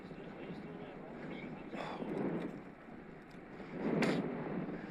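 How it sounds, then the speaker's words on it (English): Heavy wind gusts buffet a rider on an e-road bike in the Peak District, a steady rushing roar swelling into two stronger blasts, with a voice talking over it. "I'm getting some very, very heavy gusts"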